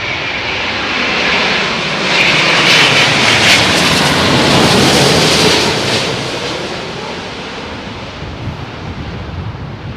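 A jet airliner lands at Heathrow Airport in strong wind, its engine roar loud and close, swelling then slowly easing, with wind buffeting the microphone.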